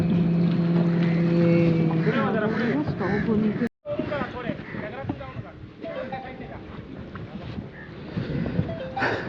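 A boat's motor hums steadily as it is brought onto a rocky shore near Suvarnadurga fort, cutting out briefly, then giving way to rough handling noise and voices talking nearby.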